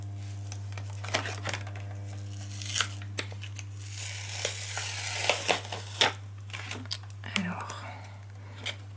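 Double-sided tape being peeled and pressed onto the back of stamp storage boards in a crafting setup, soft tearing and crinkling rustles in short bursts over a steady low hum, close and fairly quiet.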